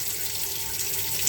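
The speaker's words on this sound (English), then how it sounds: "run the tap until you get a steady flow" Tap water runs in a steady, continuous stream in a 2016 Swift Bolero 612EK motorhome, a close, even hiss of flow into a sink with no voices.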